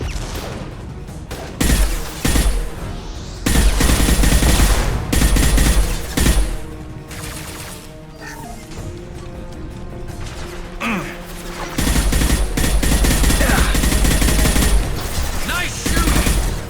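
Gunfire from Mass Effect 2 combat on PC, loud bursts of shots clustered around several moments, with a mechanical clatter and impacts between them, separated by quieter stretches of game ambience.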